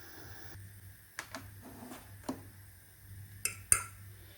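Lid set onto a pot of 1 kilo of rice brought to a boil, a few soft metallic clinks and taps up close over a faint low hum, then a sharper final clack as it settles.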